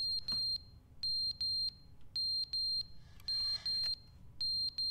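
Smoke alarm beeping for a battery change, sharp high-pitched beeps repeating in quick pairs, loud and close, with faint rustling beneath.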